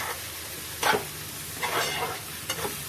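Turmeric and spices frying in hot oil for an egg curry, a steady close sizzle broken by a few scraping stirs of a spoon, with no voices.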